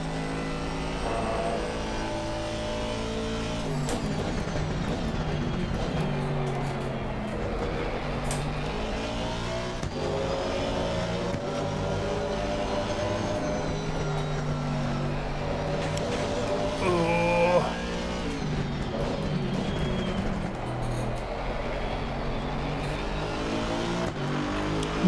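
An Aston Martin race car in a racing game at the Kyalami circuit, its engine droning and revving continuously through gear changes and downshifts into first, loud and close for the whole stretch with no talking.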